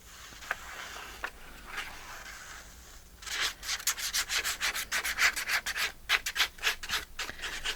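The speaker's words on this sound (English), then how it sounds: "I'm just going to glue it up to this edge." Paper being glued onto the edge of a card, with a series of close, dry rubbing and smoothing strokes in quick rhythm that grow louder and denser partway through.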